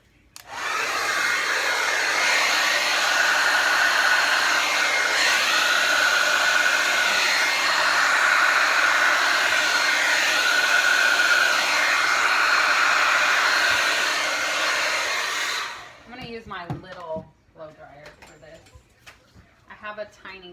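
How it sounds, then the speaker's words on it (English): A blow dryer runs loud and steady close by, drying Dutch-pour resin coasters in black and metallics. Its continuous whooshing roar lasts about fifteen seconds, then shuts off, and a person talks afterward. "Let's try the blow dryer"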